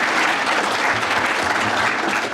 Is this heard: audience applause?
yes